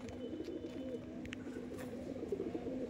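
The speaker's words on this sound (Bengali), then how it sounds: "এগুলো তো আপনার ওড়ান পায়রা নাকি দাদা?" Pigeons coo at a pigeon sale, a steady low murmuring drone with a few faint higher chirps throughout, no talk over it.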